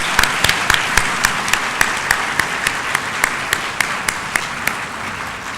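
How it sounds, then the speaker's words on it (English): Applause for Professor Bruce Allen Beutler, honorary doctorate in medicine, at Naresuan University: a large audience clapping steadily, with a few louder individual claps standing out at a regular beat. "please give another big round of applause to our honorary doctorate in medicine"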